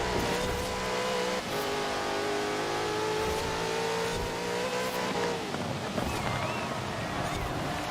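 A 2015 Jaguar F-Type R Coupe driven in the racing game Forza Horizon 4, its engine a steady, loud, continuous drone that swells with revving toward the end and has no pauses.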